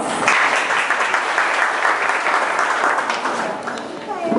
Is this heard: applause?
yes